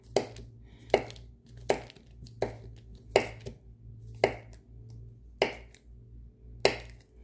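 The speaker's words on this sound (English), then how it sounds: "I just break the butter up into little slices" Cold butter snapped into small slices by hand for caramel corn, eight crisp separate snaps at an even, unhurried pace, close up over a low steady hum.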